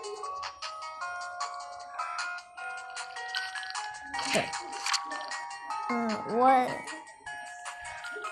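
A phone ringtone plays in the School sim video game, a bright melodic electronic tune of repeated tones, with a young voice speaking briefly over it near the end.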